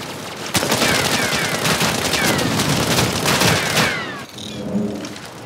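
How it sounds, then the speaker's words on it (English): Rapid bursts of automatic gunfire mixed with grenade and missile explosions in the Shadowgun War Games shooter, dense and loud for about four seconds before cutting off abruptly. "Grenade out. Missiles, double check."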